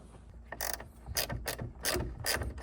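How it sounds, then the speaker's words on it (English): Ratchet wrench turns 12 mm bolts on a hatch strut of a Nissan 240SX, giving four quick close bursts of rapid clicking pawl ratcheting, each separated by a brief pause. "Dude, this is a game changer. Ratchet wrenches."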